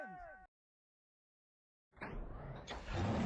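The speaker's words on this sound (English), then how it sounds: "Drivers, start your engines!" Race car engines fire up in the NR2003 racing game at Toledo Speedway for an ARCA race, a voice first, then after a silent gap a rising roar of several engines that swells louder and stays dense to the end.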